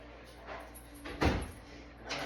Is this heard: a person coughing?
no